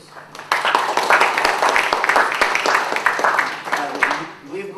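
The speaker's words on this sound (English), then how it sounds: "If I may ask for a round of applause for the first panel speakers, please." A room applauds the first panel speakers at a conference, a sudden burst of many hands clapping close and fairly loud, with sharp individual claps standing out, holding for about four seconds before fading.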